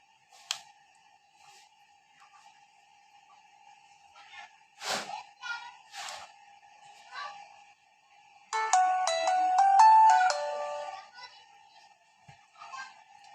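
A melodic ringtone plays loud and close from a Symphony EVO 10 button phone for a couple of seconds, preceded by faint handling clicks and light tapping in an otherwise quiet room.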